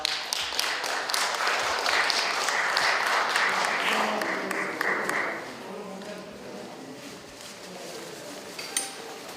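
An audience at an opening ceremony for an NGO broadcasting station claps warmly as a chairman comes forward to give a congratulatory address. The dense, steady applause lasts about five seconds, then thins to scattered claps and room murmur.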